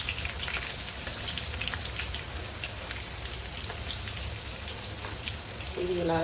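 Masala vadas fry in hot oil as their second side browns, giving a loud, continuous crackling sizzle close by, with a short clatter at the end.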